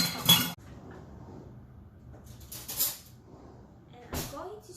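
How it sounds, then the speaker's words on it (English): A spoon scoops cake batter from a bowl, making a few sharp metallic clinks spaced a couple of seconds apart, with quiet speech between them. "I'm going to actually just take a spoon and I'm going to just spoon it out."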